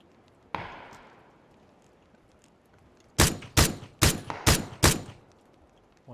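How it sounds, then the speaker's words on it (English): Gunfire in the PUBG battle royale game: one distant shot, then a rapid series of five loud, sharp gunshots close by in quick succession. "I'm just getting shot to the southeast."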